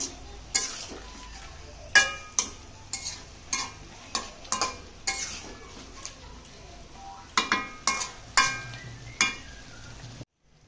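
A utensil stirs Malabar spinach curry with several kinds of fish in a pan, making a run of sharp scraping clinks at an irregular rhythm over a faint sizzle, then stopping just before the end.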